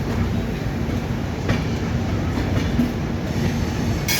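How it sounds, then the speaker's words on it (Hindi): Andhra Pradesh Express train rolling into a platform at busy Nagpur station, a steady rumble of wagons and wheels with clickety-clack and brief squeal-like clicks, close and continuous. "तो अभी जो हमारी ट्रेन है वो प्लेटफॉर्म नंबर 3 पे आ रही है।"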